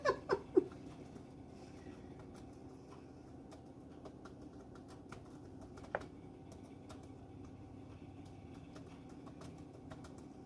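Faint, sparse clicks of typing on a computer keyboard, irregular and quiet against a low room hum, with a few louder knocks at the start.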